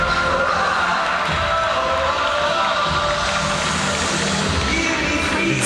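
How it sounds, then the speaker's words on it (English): A large crowd cheers and roars loudly and without a break for athletics at the launch of a regional youth games event. "A big cheer for athletics."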